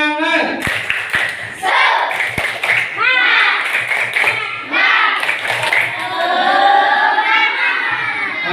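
Schoolchildren in a classroom perform a rhythmic spirit clapping chant, with sharp claps mixed with children's voices chanting and shouting together loudly and close by.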